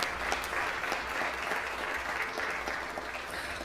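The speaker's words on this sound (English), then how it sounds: "let's give a big round of applause to our basketball team from Granada Hills High School." A steady round of applause fills a Los Angeles city council chamber, honoring a high school basketball team; dense clapping continues evenly throughout without pause.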